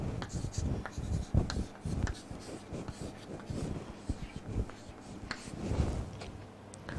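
Scratchy strokes and taps of writing on a board come in quick bursts as digits are written out one after another, close and fairly quiet in a lecture room.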